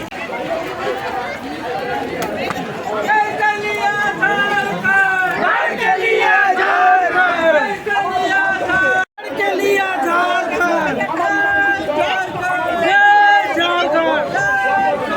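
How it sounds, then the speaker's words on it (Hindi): A large crowd at a political rally chatters loudly, with dense overlapping voices, shouts and cheers filling the whole stretch and one brief cut in the middle. "बहुत ही ज़्यादा भीड़"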